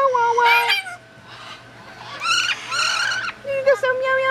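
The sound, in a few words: African grey parrot imitating a cat's meow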